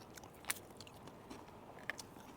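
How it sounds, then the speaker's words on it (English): A crunchy cracker is bitten with a couple of sharp, brief crunches, close and fairly quiet, over a soft outdoor camping background with no talking. "Then take a bite of the cracker."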